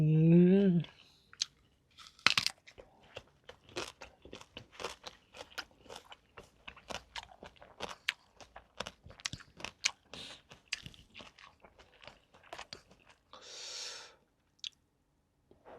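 Close, crunchy chewing and biting while fish is eaten with a fermented fish dipping sauce, a rapid run of sharp bites and squishy chews, with a brief voice at the start and a short breathy sound near the end.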